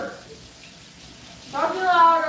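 Tap water gushes into a kitchen sink during home cooking of cheeseburger tacos, starting abruptly after a quiet stretch and running as a bright, steady splashing for the final second, fairly close.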